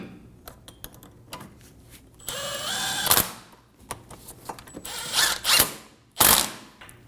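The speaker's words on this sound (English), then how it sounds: "Snug the bolts down." A ratchet snugs down the brake caliper bolts on a 2008–2015 Scion xB rear hub job. Close, clicking bursts of ratcheting alternate with short pauses and the clatter of tools, with no voices.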